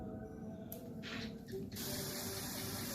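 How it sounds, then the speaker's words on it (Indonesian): A 1-litre Aqua plastic bottle fitted with a sprayer mists water onto plants in the morning, giving several short hissing bursts followed by a longer steady spray, close and fairly quiet. "Ini disiram kabut aja guys."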